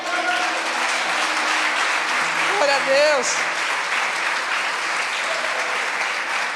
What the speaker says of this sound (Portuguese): Aplauda o Senhor aí, por favor.